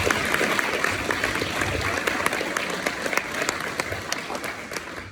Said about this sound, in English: How about another round of applause for our sheriff candidates?